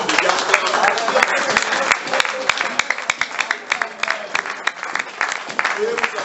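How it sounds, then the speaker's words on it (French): A church congregation in Kwilu province applauds the men of God, with a dense wash of steady clapping from a crowd nearby, continuous for several seconds with some voices mixed in. "acclamons les hommes de Dieu."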